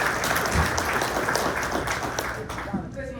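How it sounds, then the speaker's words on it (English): Audience applause at a community morning meeting in Corona, a full burst of many hands that gradually thins and fades toward the end, with a voice briefly starting up as it dies down. "Let's give her a round of applause"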